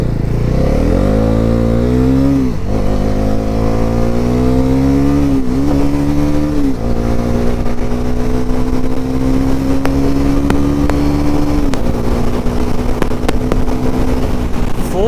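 A Bajaj NS400z motorcycle engine at speed, a loud continuous drone with the pitch climbing through several gear changes, each marked by a brief dip before steady high-revving cruising with wind rush.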